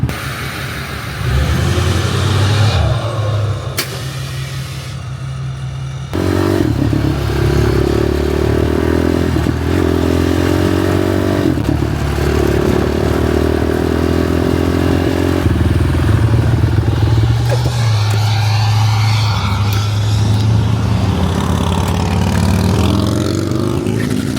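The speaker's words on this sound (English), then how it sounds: "I think Zach's gonna take out the quad, little beater quad" A small beat-up quad bike engine runs loud and close, idling roughly then revving repeatedly with rising and falling pitch and some clattering throughout.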